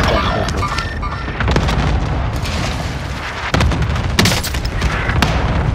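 Explosive booms from a cluster strike in Call of Duty: Modern Warfare, a steady rumbling barrage with sharper blasts near the middle and end, loud and dense throughout.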